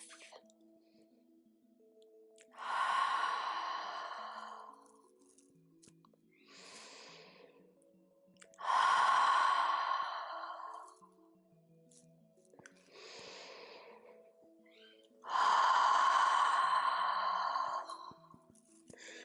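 Three long, loud exhalations puffed out during a yoga forward fold, evenly spaced and close, with softer inhales between and no speech.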